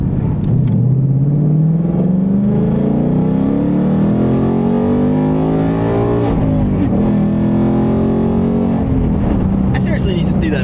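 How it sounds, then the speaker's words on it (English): A Ford Mustang hybrid test mule's engine drones loudly from close by, its pitch climbing steadily as it accelerates, dipping, then rising again, with a person speaking over the engine at times. "I love the way this car sounds so much."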